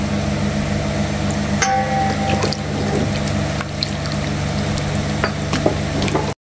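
Spice and sauce mixture with olive oil being stirred for chicken wings, a continuous wet sizzling hiss with several sharp scraping clicks of the utensil against the bowl, close and steady throughout.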